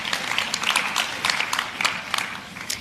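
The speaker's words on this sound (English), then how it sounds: "A round of applause as they come on stage." Steady audience applause for panelists coming on stage at a health conference, a dense wash of many hands clapping throughout at moderate volume, with no talk over it.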